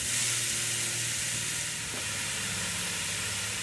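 Ground turkey sizzles and fries steadily in olive oil inside a Ninja Foodi pressure cooker, with a constant close hiss and crackle and no voices.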